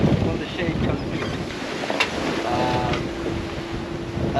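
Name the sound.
wind on a sailing yacht at sea, around 20 knots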